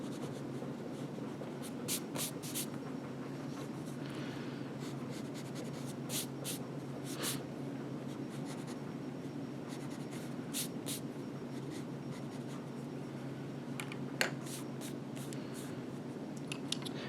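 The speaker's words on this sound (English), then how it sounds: "I'm going to go around and just kind of erase lightly those pencil lines that still are present" An eraser rubbed lightly over pencil lines on paper, giving quiet repeated scratchy strokes in short bursts against a low steady background hum, with no talk.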